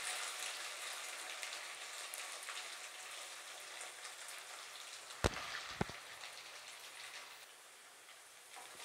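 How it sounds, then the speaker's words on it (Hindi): Taro root (arbi) frying in oil on a high flame, a soft steady crackling hiss like light rain, fairly faint, with two sharp clanks partway through. "देखिए हमारी अरबी फ्राई हो रही है"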